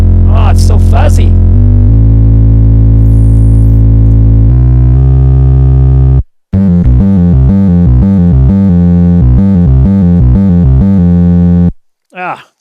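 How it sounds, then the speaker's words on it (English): A Waves Flow Motion synthesizer plays through a fuzzy distortion effect, loud and buzzing. Sustained held tones give way to a choppy, rapid sequence of notes, and a voice briefly speaks at the start. "Throw a little distortion on that."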